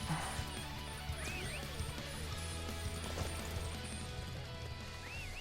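Faint clip-clop of horse hooves in the video game Dynasty Warriors 9, under the game soundscape, with a brief whinny and scattered thuds, low in the mix.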